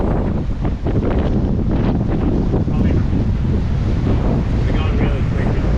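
Strong wind gusting at around 36 knots over a sailing boat, loud and continuous roaring buffeting of the microphone with water rushing beneath.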